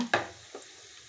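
Whole spices, cloves, cardamom, cinnamon, bay leaf and fennel, drop into hot oil for chicken biryani, with a sharp sizzling burst followed by a softer crackle and a faint quieter fry.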